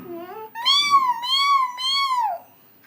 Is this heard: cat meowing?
yes